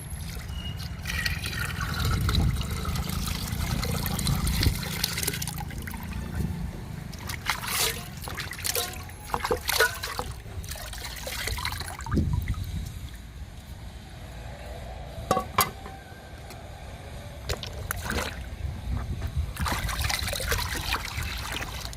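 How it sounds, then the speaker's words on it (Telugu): Fermented water from rice and lentils soaked three days is poured into more water to dilute it into a liquid plant fertilizer, giving a steady trickling, splashing pour close by, with no talk. "ఈ వాటర్ని కూడా వాటర్లో డైల్యూట్ చేసుకుందాము"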